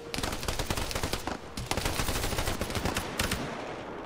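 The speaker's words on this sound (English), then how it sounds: "I thought I heard shots west as well" Video game gunfire rattles in dense, rapid bursts almost continuously, loud and close, with brief dips between volleys.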